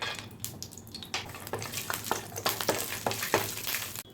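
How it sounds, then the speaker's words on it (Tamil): Cashews frying in hot ghee in a pan, a steady bright sizzle with scattered stirring scrapes and clinks, close and continuous with no voices. "எடுத்து வச்சுருந்தா முந்திரி சேர்த்து வறுத்துக்கலாம்."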